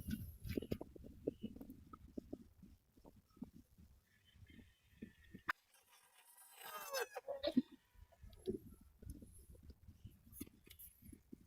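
Gamefowl stags at a farm stag sale crow and cluck, with a loud crow rising mid-clip over steady nearby clucking and rustling, close and fairly prominent.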